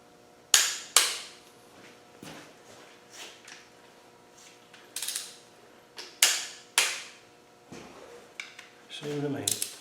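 A torque wrench tightens the engine sump bolts on a Land Rover 300Tdi in a diagonal pattern, giving sharp, sparse clicks and ratchet snaps up close, with quiet pauses between and a brief rattle at the end.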